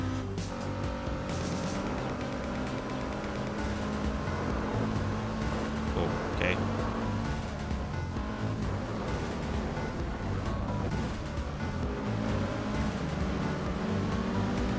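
Car engine sound from the racing video game Gran Turismo 4, a continuous droning engine note with shifting pitch running throughout at fairly loud level, with no clear talk over it.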